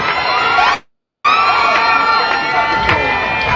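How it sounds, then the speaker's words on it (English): A large outdoor crowd at a swearing-in celebration in St. Kitts cheers, whoops and applauds loudly, a dense roar cut by a brief silent gap before it resumes. "Put your hands together for the Honorable Conway Maynard"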